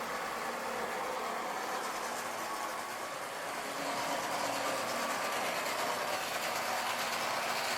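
An O gauge Lionel model train engine runs along its track with a faint, steady whirring rumble and light rolling hiss throughout, with no speech.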